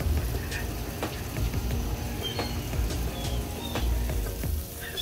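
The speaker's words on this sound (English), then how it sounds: "You hear the birds chirping." Birds chirp in short, scattered calls on an outdoor patio, fairly faint under a steady hiss of background noise.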